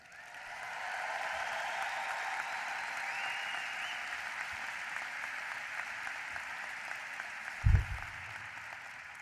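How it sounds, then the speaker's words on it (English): A large crowd at a law school commencement applauds graduates steadily for several seconds, a dense wash of clapping that fades slightly, with a brief thump near the end. "Thank you for that thunderous applause for our graduates."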